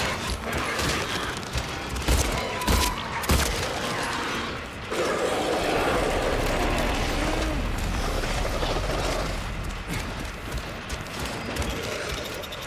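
Gunfire in the Silent Hill 2 Remake video game, with several sharp shots early on followed by a steady mechanical game ambience and rumble, loud and close, with no voices.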